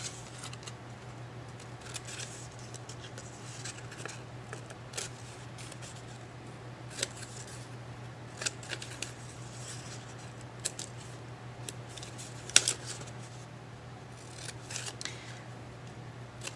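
Scissors snip through paper while cutting out a monochromatic cityscape skyline, a steady run of small crisp clicks and snips close by over a faint constant hum.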